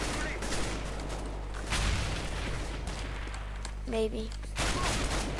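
Gunfire in Counter-Strike: Global Offensive, with a few bursts of shots and impacts amid game ambience while players talk briefly.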